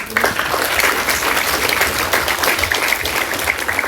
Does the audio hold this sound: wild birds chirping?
no